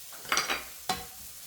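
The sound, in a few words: stir-frying ham and dried shiitake mushrooms in a pan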